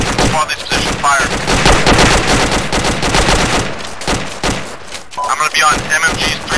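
Gunfire in the military game Arma 2: dense, loud volleys of rifle and machine-gun fire cracking in rapid bursts almost without pause, with brief gaps before a fresh burst near the end.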